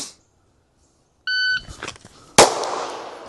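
Single sharp gunshot from a Glock 34 pistol fired on the draw at a shooting range, a loud close crack preceded by a short electronic timer beep and some handling rustle.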